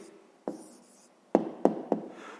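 Handwriting an answer on paper during a fifth-grade maths exercise: a few short, close scratchy pen strokes, one early and three more in quick succession near the end, with no talk.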